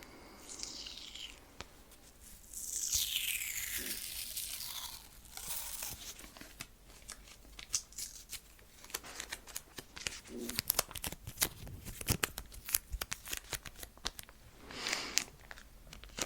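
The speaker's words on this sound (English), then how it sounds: "I'm going to be grabbing a second piece of tape and putting it slightly above that one" A piece of tape being torn and pressed onto a nose in a quiet close-up setting, with crinkling rips and a run of soft rapid taps and rustles.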